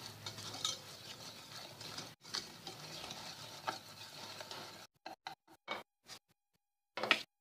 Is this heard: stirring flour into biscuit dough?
yes